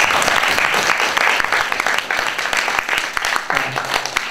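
An audience at a Korean ensemble concert applauds an encore, a loud, dense, continuous clapping that fills the whole stretch close by, with no voices standing out.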